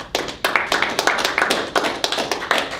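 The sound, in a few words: audience applause for student robotics teams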